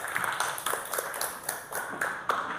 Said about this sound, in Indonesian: tepuk tangan buat Jawara